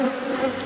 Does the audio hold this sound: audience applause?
no